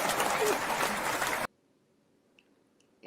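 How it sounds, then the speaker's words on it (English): Studio audience applause on a talk show, a loud dense burst of clapping that cuts off abruptly, leaving near silence before more sound returns at the end. "And there's your applause."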